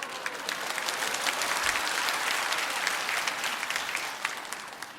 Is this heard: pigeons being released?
no